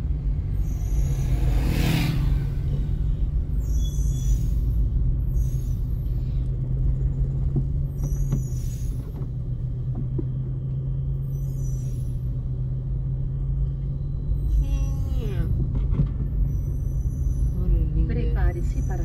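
A bitrem truck pulling two coupled trailers descends a mountain road on the Serra da Viúva in Minas Gerais, its deep engine rumble loud and continuous with bursts of air-brake hiss.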